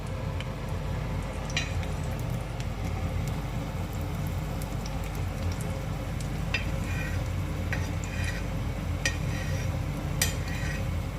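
A sweet snack frying on low heat in vegetable ghee, a soft continuous sizzle with scattered faint ticks and pops, fairly quiet and steady throughout with no talking.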